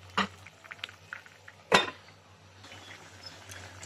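Two sharp metallic clinks ring out as a lid goes onto a cooking pot of chicken and potato curry, the second louder, followed by quiet kitchen rustling.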